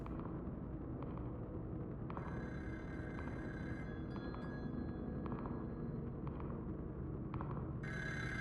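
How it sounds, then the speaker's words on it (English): A telephone rings in the horror video game Party Line, a thin repeating tone that starts and stops over a steady, loud ambient drone, with no talk. "I hear a phone."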